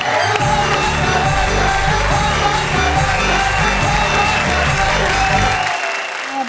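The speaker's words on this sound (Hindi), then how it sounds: "तालियां" Enthusiastic applause and cheering from the audience at an Urdu poetry recital, with scattered shouts and whoops over loud, steady clapping that fades near the end.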